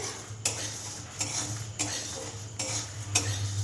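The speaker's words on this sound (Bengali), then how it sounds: "এইভাবে লুয়েতে রেখে আমি মশলাগুলো বেজে নিচ্ছি" Spices are stirred and dry-roasted in a pan on the stove, with a utensil scraping and clinking against the metal in a steady rhythm of about five strokes over a low hum, close and moderately quiet.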